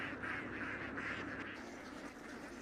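Ducks quacking in a rice paddy field in Thailand, a dense, continuous chorus of nasal calls at moderate distance, steady throughout with no speech.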